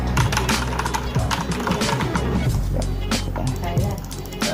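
Quick, uneven clacking of keys on an MSI GK-701 mechanical keyboard, close to the microphone, with a voice talking over the typing.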